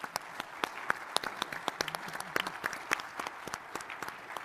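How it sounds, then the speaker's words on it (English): A modest audience claps for panelists at a military space exposition session, distinct individual claps in a loose, fairly quiet patter lasting a few seconds. "if we could get our panelists a round of applause"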